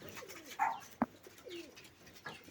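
Pigeons coo softly nearby, giving a few low, rolling calls spread across a quiet moment, along with a brief tap-like sound.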